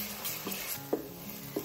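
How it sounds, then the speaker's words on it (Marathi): Onion with crushed ginger, garlic and chili being sautéed in a pan for dhaba-style chicken handi; a soft steady sizzle runs under a few light spatula scrapes and taps against the pan, close and fairly quiet. "थोडासा कांदा गुलाबी रंगावर परतून झाला"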